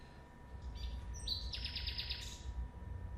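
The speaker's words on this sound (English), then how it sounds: "here's a little bit of a nightingale" A nightingale sings a short phrase of rapid, bright trilled notes, heard alone over a low steady background rumble.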